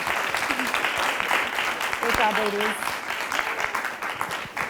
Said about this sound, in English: let's please give them a warm round of applause